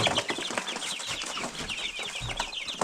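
Many young chickens inside a chicken coop, a dense chorus of high peeping and chirping that runs continuously with occasional louder cheeps.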